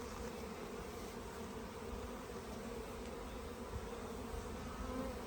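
A swarm of dark salt-and-pepper bees gives off a dense, steady buzzing hum that fills the whole stretch, loud and close, with no talking over it.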